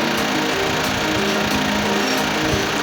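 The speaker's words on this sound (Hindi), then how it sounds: "और उसके बाद मशीन से ड्रिलिंग की जाती है" Borewell drilling machine working a 10-foot pipe up and down on a steel rope for a submersible pump installation, giving a loud, steady mechanical drone with regular periodic thumps throughout.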